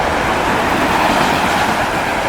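A CSX freight train with mid-train DPU locomotives rolls past at close range in Germantown, a loud, steady broadband rumble of cars and wheels with no break in the noise.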